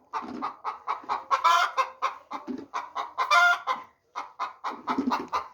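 Chickens on a poultry farm in Afghanistan cluck in rapid, repeated bursts, close and loud, with a few sharper squawks rising above the steady rhythmic clucking and no talk.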